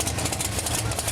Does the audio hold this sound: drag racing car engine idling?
yes